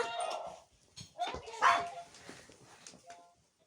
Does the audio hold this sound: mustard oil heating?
no